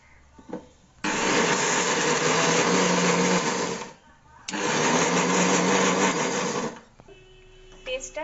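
A blender grinds chopped ginger and six garlic cloves into a coarse paste with no water, two loud whirring bursts of a few seconds each separated by a short pause, with faint clinks around them.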